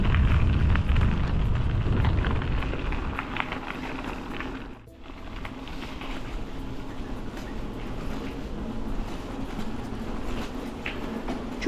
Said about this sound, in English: Choo choo!